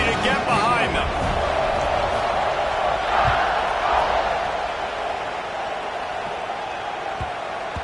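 Football stadium crowd roaring steadily before a kickoff after an extra point, a dense, continuous wash of cheering and voices with a few brief shouts and thumps, loud and sustained throughout.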